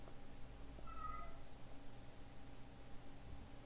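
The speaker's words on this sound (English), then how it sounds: "That cat won't stop meowing." A single faint meow from a cat in the video game IAM HOME ALONE rises briefly over a low, steady background hum, then fades into quiet noise.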